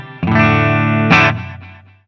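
A Telecaster electric guitar with Sheptone pickups through a clean JTM-style amp rings out a sustained chord, then a second bright strum that decays smoothly, with no talking.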